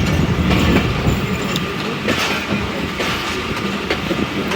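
The Awam Express pulls out of Lala Musa Junction in Pakistan, heard from inside with loud, continuous rumble, rhythmic clickety-clack of wheels over rail joints and brief metallic squeals.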